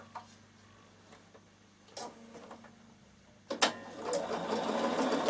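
A Bernina sewing machine stitching seams in boiled wool for a coat, with quiet ticking early on, brief bursts, then a louder steady run of stitching near the end, no talk.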